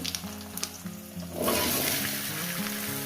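Taro and potatoes hit hot oil with a cumin tempering and burst into a loud, continuous sizzle after about a second and a half, over steady tonal background music.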